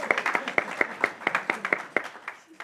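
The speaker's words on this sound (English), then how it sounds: "Let's give her a round of applause." Light applause from a small audience at a community homelessness discussion forum, a handful of sparse, distinct claps spaced irregularly and fading out within a few seconds.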